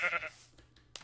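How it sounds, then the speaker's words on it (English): A single short sheep bleat from a blocky sandbox video game sounds once, fairly faint, followed by quiet and a brief soft noise. "Why are there so much sheep now?"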